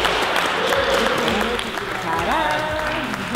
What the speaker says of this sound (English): A round of applause for Vicky